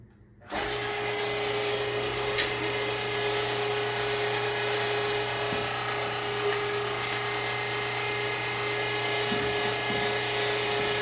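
An electric meat grinder starts up and runs steadily while grinding pork, a constant mechanical whir and hum with faint ratcheting clicks, close by and unbroken for about ten seconds.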